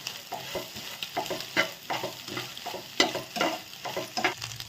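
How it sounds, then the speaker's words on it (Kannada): Potatoes and eggs being stirred together in a frying pan for an egg potato fry, with repeated scraping strokes of a spatula over a soft, steady sizzle, close and fairly loud, no one talking. "ಆಲೂಗಡ್ಡೆ ತತ್ತಿ ಎರಡು ಮಿಕ್ಸ್ ಮಾಡಿ"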